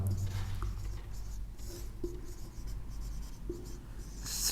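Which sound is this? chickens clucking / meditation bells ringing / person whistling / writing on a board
writing on a board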